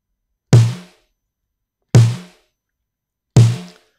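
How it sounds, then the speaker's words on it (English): Three punchy 80s-style snare hits with gated reverb, evenly spaced and isolated, each with a big burst of reverb that cuts off abruptly into silence. "Sounds like an 80s snare with a gated reverb, right?"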